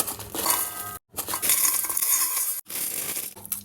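Dishes, pots and cutlery clatter and clink close by, with running water-like noise and brief pauses between bursts, no talk.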